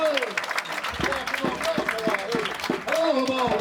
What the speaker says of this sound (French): Alors, Romain, on applaudit ou quoi?